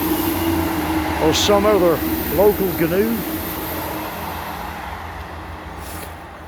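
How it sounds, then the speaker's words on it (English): A train passes nearby as a low, steady rumble under a man's speech, fading gradually toward the end. "That's a train passing."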